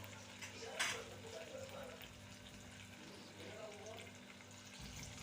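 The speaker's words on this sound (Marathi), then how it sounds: "आलं लसूण पेस्ट व्यवस्थित फ्राय करून घ्यावी" Ginger-garlic paste frying in a pan for a Maharashtrian patwadi rassa gravy, a soft continuous sizzle with a brief sharp scrape or clink early on and a low steady hum underneath.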